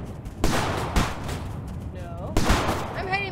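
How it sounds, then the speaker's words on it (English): Bursts of gunfire from a Western-style video game as bandits are fought, with loud sharp blasts and a heavy boom, then a metallic reload-like ring at the end. "I shoot the cactus."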